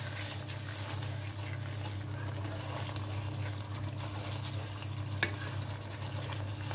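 Liquid cream is stirred into a butternut pasta sauce in a hot pan, a soft continuous scraping and bubbling over a low steady hum, with a single clink near the end.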